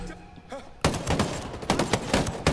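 A light machine gun fires in Ghost Recon Breakpoint, a rapid close burst of loud, evenly spaced shots kicking in suddenly after a quieter moment and continuing to the end.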